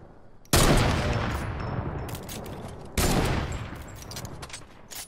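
Two loud bursts of rapid gunfire in the video game Fortnite, each cutting in sharply and fading into a crackling tail, the second volley following about two and a half seconds after the first.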